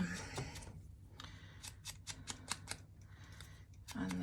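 Scissors cutting envelope paper for a junk journal, a quiet close run of short crisp snips in quick irregular clusters, with brief talk at the start and end.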